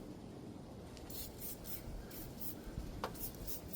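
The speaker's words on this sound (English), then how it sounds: "Spray some Kroll on everything that I'm hitting today." Kroil penetrating oil sprayed from a can onto old bolts on a 1980 Ford F-100 truck, several short hissing bursts in a row over a steady, low background rumble.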